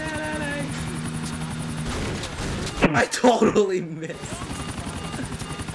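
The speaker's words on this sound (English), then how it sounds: "I can see a chopper." A helicopter flies overhead in the video game GTA IV, its steady rotor drone running throughout, mixed with a burst of clattering game effects in the middle and a player's voice speaking over it.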